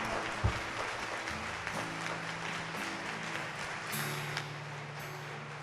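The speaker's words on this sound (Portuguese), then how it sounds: "Força nessa palma." A church congregation at a Catholic Eucharist service claps together, a moderate, steady crowd clapping heard over sustained music tones, fairly distant and even throughout.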